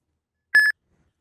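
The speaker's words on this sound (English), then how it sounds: "Your phone will start beeping, and the screen will flash." A phone gives a single short electronic beep for an incoming delivery trip request, a clean tonal blip lasting a fraction of a second amid silence.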